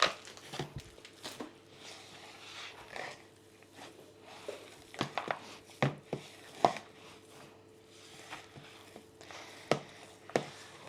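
Ingredients are stirred into a thick baking dough by hand, with intermittent dull knocks, scrapes and thuds of a spoon against a bowl, close and irregular, over a faint steady hum.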